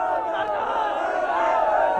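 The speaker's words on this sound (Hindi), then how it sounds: "जरा देखिए इन लोगों को किस तरीके से जय श्री राम के नारे हैं" Dense crowd at the Mahakumbh pilgrimage gathering chanting Jai Shri Ram slogans, a continuous loud roar of many voices blending together without pauses.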